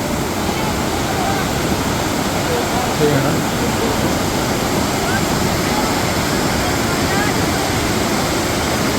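Water rushing over Bhushi Dam near Lonavala, a loud, steady broadband roar of flowing water that continues unbroken and close throughout.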